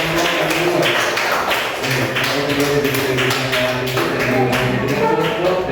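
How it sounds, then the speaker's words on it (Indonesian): A classroom crowd applauds a second student group, steady dense clapping that fills the room at close range and holds without a break throughout. "Tepuk tangan untuk kelompok kedua."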